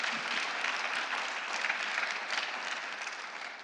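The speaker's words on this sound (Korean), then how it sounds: "우리 박수로 따뜻하게 환영하고 자리에 앉으십시다." A church congregation at an autumn revival service claps warmly to welcome guests, a dense, even burst of many hands that holds steady for a few seconds before easing slightly, with no voices over it.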